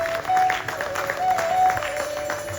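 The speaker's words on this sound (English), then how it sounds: "I want to give him a nice round of applause." An audience at a Ganesh Chaturthi Utsav 2024 celebration applauds Pandit Ji, a moderate crowd clapping that swells in two brief waves, with some voices mixed in.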